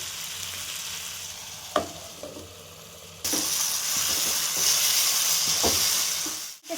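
Raw tomato chutney roasts in a pan with a constant close sizzle, growing louder partway through, punctuated by a few sharp scrapes and taps of stirring.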